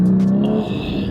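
A Porsche Cayman GT4 sports car revs loudly and close by in one sustained engine note that dips slightly in pitch partway through, with no talking over it.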